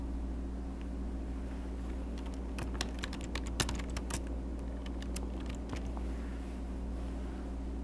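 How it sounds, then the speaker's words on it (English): Typing on a computer keyboard at an office workstation: a run of quick, light key clicks in irregular bursts over a steady low electrical hum, with no talking. "Type in a subject name for the file."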